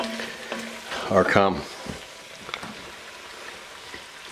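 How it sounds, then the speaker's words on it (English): Flour-and-fat roux with potatoes sizzles softly in a corn chowder pot as a spoon stirs through it, a faint steady frying hiss beneath brief speech. "You just want to cook this roux off a little bit."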